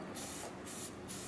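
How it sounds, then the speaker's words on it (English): Spray paint can laying down light dusting coats, with a steady close hiss that pulses slightly in three short passes. "With spray paint, you want very light coats."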